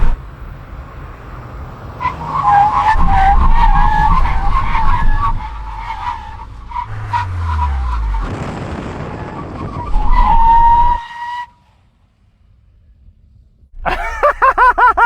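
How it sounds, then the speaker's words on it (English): Several generations of VW Golf GTI brake hard from 100 km/h, tyres squealing and skidding loudly under roaring engines, followed by a quiet pause and another burst of tyre noise. "When we reach the cones, full emergency stop"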